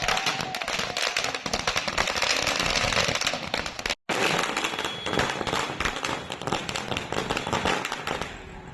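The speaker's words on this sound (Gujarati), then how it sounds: "સૂત્રોચ્ચાર તેમજ ફટાકડા ફોડીને જીતની ઉજવણી કરી હતી" Firecrackers burst at a BJP celebration of the Bihar election win at Mahadev Chowk in Bhavnagar, a loud, rapid crackling barrage with one brief pause, then more dense popping.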